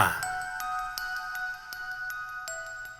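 A bright notification bell ding rings out near the end of a Thai ghost-story episode, a clear chime that repeats several times with a shimmering ring, alone and without talk.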